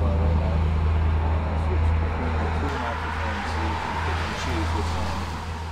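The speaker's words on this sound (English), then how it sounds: "There's a car going by right now." A car passes by on a rainy street, a steady broad roadway rumble with low engine hum holding level throughout, heard close over continuous background noise while someone talks.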